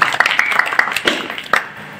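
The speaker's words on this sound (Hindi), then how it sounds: "इनके लिए जोरदार ताली बजाओ एक बार" An audience at a religious katha gathering claps in loud, close applause with sharp hand claps in an uneven burst that fades toward the end.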